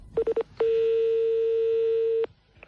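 A telephone line with a few short dialing beeps followed by one long steady ringing tone, close and clean, then quiet.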